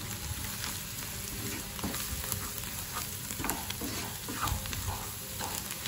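Onion and garlic fry with chili powder and salt being mixed in a pan, a dense steady sizzle with irregular scraping stir strokes throughout, close up and without speech.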